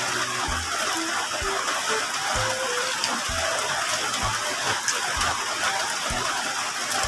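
Rain pours steadily outdoors, a dense, even hiss with occasional soft low thumps scattered through it and no voices.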